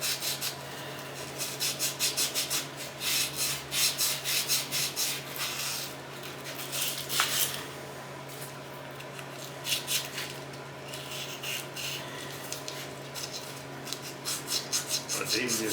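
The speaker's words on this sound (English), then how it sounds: "A little piece of sandpaper as far as that goes." Sandpaper rubbing by hand on the sump of a Briggs & Stratton OHV small engine, a steady scratchy rasp in short irregular strokes, close up, with a faint background hum.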